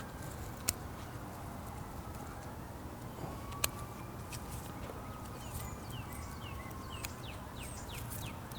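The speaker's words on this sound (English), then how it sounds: "Listen to those birdies." Small birds chirping outdoors in a garden, with quick sweeping calls repeating faintly over steady background noise, plus a couple of sharp clicks.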